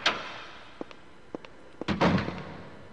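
In the Clock Tower game, the door to the parking lot opens with a few sharp knocks and thuds, followed by a louder heavy clunk near the end, quiet between hits.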